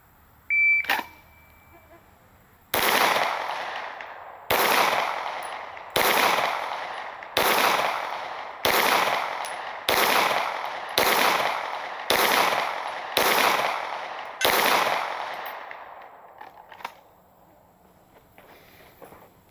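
Ten rifle shots fired one at a time at a target, each a sharp, loud crack with a short decay, spaced roughly a second or more apart, with a faint electronic beep near the start.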